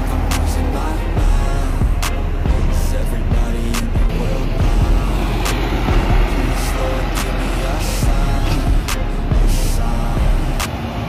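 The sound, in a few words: buses at the Bekasi Timur toll gate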